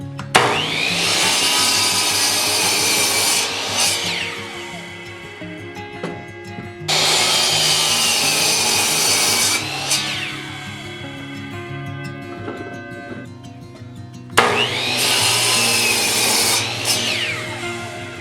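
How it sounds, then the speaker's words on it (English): A power saw cuts bourbon barrel oak staves into coaster blanks in three loud, close passes, each rising as the blade bites into the wood and whining down between cuts, with no voices. "So I'm going to cut these staves a little oversized for now, and we'll trim them back to 4 inches by 4 inches."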